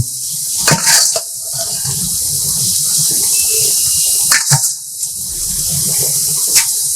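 Water gushes steadily into a cauliflower curry cooking in a pan, a loud close pouring rush with a few sharper splashes and clinks, and no speech.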